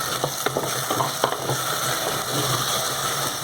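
Potatoes and cauliflower fry in a pan for an aloo cauliflower curry, a loud steady sizzle broken by several sharp clinks and scrapes of stirring.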